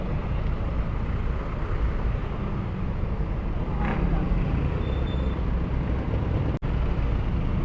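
Dense road traffic rumbles around a Samurai 155i motorcycle, a continuous close roar of engines and wind with a faint passing whine partway through.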